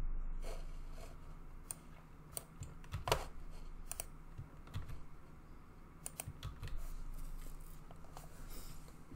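Fingers type an admin username and password on a computer keyboard, a steady run of close, crisp key clicks in irregular bursts over a quiet room background.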